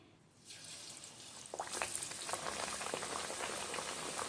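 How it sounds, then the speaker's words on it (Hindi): Besan naan deep frying in hot oil in a kadai, a steady close sizzle and bubbling that swells after a quiet start, with crackling pops throughout and no talk. "अब इसको जो है हम अच्छे से फ्राई करेंगे।"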